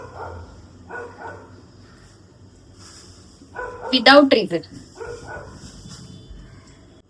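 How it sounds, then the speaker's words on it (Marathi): Dogs bark indoors, a few sharp barks clustered in a brief burst partway through, while someone talks casually before and after them. "तुमच्यातले कुत्रे एवढे भुकतात ना"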